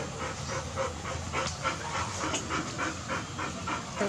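Dogs pant rapidly at close range during a Pola festival gathering in Nagpur, a steady breathy huffing rhythm over a broad background din lasting about four seconds, with no talk.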